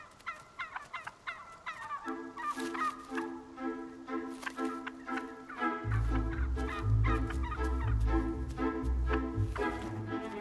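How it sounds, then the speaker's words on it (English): Wild turkeys in the Canadian autumn woods gobble at sunset in repeated rattling calls that overlap and swell into a dense, loud chorus as the flock heads for a roost tree. "Wild turkeys have finished foraging for the day."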